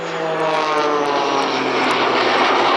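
A jet-powered Pitts biplane flies an airshow manoeuvre at Blackpool, giving a steady, loud, sustained engine drone with no break.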